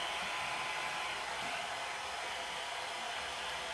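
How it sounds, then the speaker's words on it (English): A hair dryer blowing steadily up close, a constant loud whooshing hum with no breaks. "I'm going to get out the hair dryer once again."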